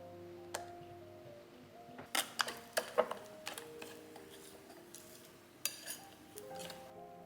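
Egg yolks being mixed into a coarse batter in a bowl, with sparse light clinks and taps of a utensil against the bowl, quiet and close, no voices.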